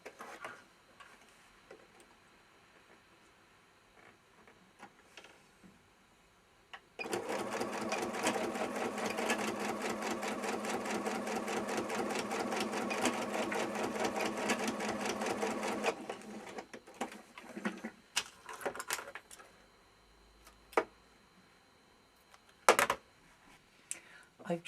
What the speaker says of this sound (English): So the first thing to do is just make that little stitch there.